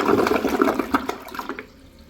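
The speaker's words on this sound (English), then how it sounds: "The flush is just way too short and the coverage is not very long." A Toto Drake II toilet flushes with a quick press and release, a loud close rush of swirling water that drains away and fades within about a second and a half.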